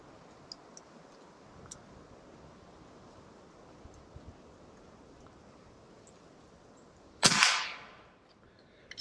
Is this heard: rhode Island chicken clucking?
no